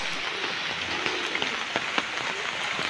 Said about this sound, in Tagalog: At napakalakas ng ulan.